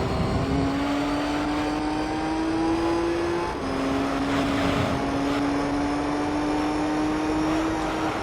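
A race car engine in Gran Turismo 3: A-Spec holds a loud, steady high whine through a tunnel and final corner, dipping briefly for a gear change before climbing again, with no talk over it.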